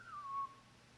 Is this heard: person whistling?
yes